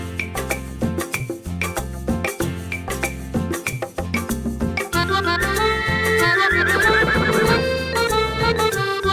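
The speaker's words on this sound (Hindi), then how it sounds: "टप टप टप घोड़ा भागे" A galloping horse's rhythmic clip-clop beat runs under a bouncy children's song, then a long, loud whinnying neigh rises over the music.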